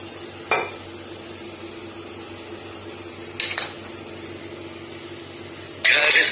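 Ground cumin paste and spices sautéing in oil, a low steady background with three sharp metallic scrapes and clinks of a spatula against the pan spaced a few seconds apart.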